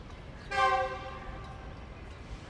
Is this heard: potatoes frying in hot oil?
no